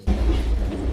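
A train moving on rails, a loud close rumble with a rolling low roar that starts abruptly and holds steady for about a second.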